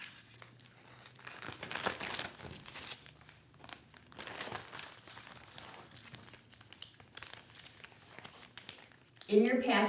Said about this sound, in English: Let's take our package apart and get started.